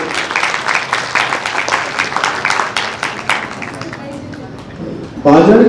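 A seated audience at a religious discourse claps in a brisk, dense burst that thins out and fades, followed by a voice speaking close up at the end.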